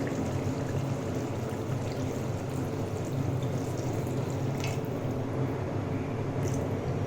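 A steady, even rush of water pours into a pot of sautéed bottle gourd and boal fish curry, continuous and close, with no talking.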